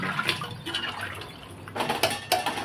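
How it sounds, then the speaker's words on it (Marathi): Water splashes and pours into a metal pressure cooker for chicken rassa, with clinks of cookware and a few louder bursts of flowing liquid near the listener. "एका आपल्या अंदाजानुसार पाणी टाकून घेते"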